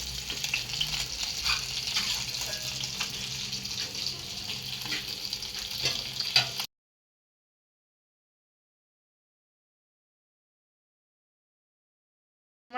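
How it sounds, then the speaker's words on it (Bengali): Fish frying in hot oil in a village home kitchen, a steady crackling sizzle for about six seconds before cutting to silence, with a brief return at the very end. "তো এই যে মাছ দিয়েছি তেলে"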